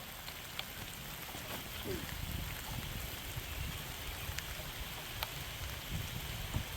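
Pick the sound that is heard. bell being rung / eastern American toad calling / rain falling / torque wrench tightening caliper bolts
rain falling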